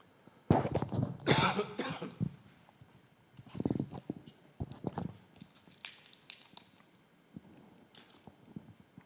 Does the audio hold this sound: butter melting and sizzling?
no